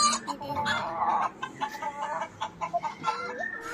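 Hens clucking close by in a steady run of short, overlapping calls, with faint background noise throughout.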